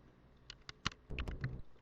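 Fingers tapping keys on a computer keyboard, a handful of separate clicks followed by a quick cluster of keystrokes, close and fairly quiet with no talk.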